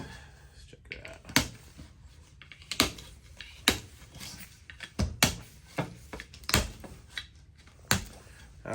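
A Civivi Altus folding knife snips through zip ties of several sizes, giving a series of sharp, separate clicks and snaps spaced about a second apart, close and clear over a quiet background.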